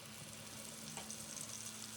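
Spice mix tipped into peanuts frying in hot oil, a steady soft sizzle and crackle running the whole time with a brief louder clink at the very end.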